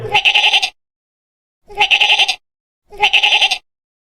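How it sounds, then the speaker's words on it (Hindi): Three wavering goat bleats, loud and near, each about half a second long and spaced apart by short silences. "बकरी,"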